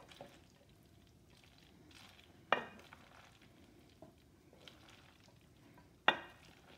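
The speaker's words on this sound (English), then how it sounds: "Just kind of stir it all towards the center." Macaroni salad with mayonnaise and hard-boiled eggs is folded in a bowl, making soft, wet, squelching stir sounds, with two sharp clinks of a utensil against the bowl, close and quiet, with no talking.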